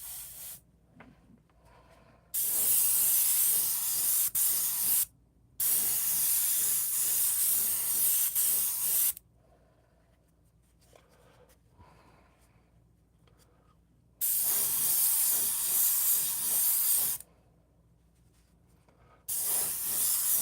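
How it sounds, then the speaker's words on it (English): An aerosol spray can applies paint over a silver surface in four long, loud hissing bursts, each lasting a few seconds and separated by quiet gaps with faint handling noise. "And we're going to spray over the silver."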